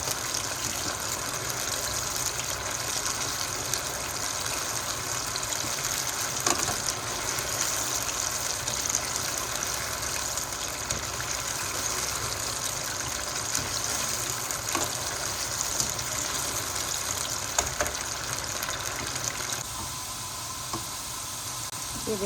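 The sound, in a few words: taro root (arvi) frying in oil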